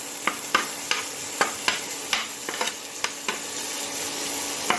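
Grated ginger frying in a pan during the making of an eggplant mash, a steady sizzle broken by repeated sharp scrapes and clicks of stirring, close and fairly quiet.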